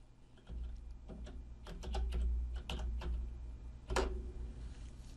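Quiet, irregular keystrokes clatter on a computer keyboard as a Windows 10 command is typed, with a few louder key presses standing out against faint room hum.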